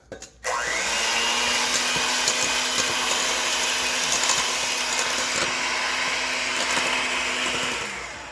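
An electric mixer beats chocolate cupcake batter with a steady, loud motor whir. It switches on, runs evenly for about seven seconds, then winds down, with no talk.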